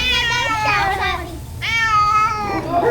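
Hungry street cat meowing repeatedly at close range, loud drawn-out cries with rising and falling pitch, one after another.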